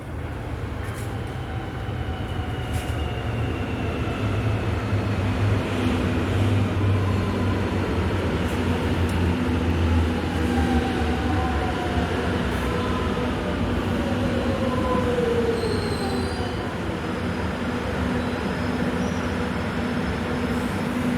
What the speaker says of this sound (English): And there's the train coming in now.